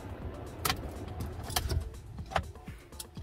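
In a Ford Maverick Hybrid, a key is pulled from the ignition, giving a few short metallic clicks and light jingles inside the car cabin, close and quiet.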